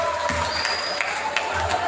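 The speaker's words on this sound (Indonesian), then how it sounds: "Boleh beri tepuk tangan sekali lagi." An audience at a university dental faculty event gives a brief round of applause, a soft, diffuse patter of clapping with a steady hum beneath and some crowd murmur.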